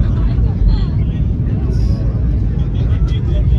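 Loud, steady low rumble of an airplane cabin in flight, a continuous engine and air drone filling the space, with people talking over it.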